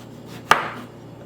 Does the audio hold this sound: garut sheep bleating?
no